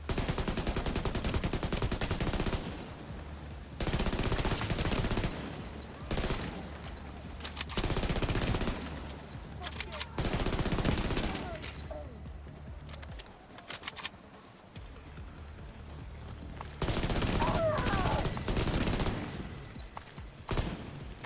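Video game turret fire: loud automatic bursts in repeated volleys of a few seconds each, broken by brief quieter gaps, with no talking.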